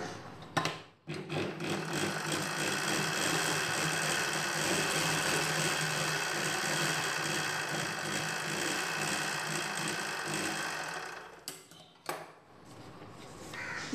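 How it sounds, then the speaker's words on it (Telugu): Close, steady mechanical whirring of a sewing machine stitching a fish-cut model sleeve, running continuously for about ten seconds before stopping with a couple of brief clicks. "ఇలానే రెండో వైపున కూడా కుట్టు వేసుకోవాలి"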